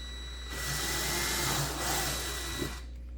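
A power drill boring holes through a wooden block for a homemade fingerboard, a steady whining motor drone lasting a couple of seconds before it cuts out, close and fairly loud.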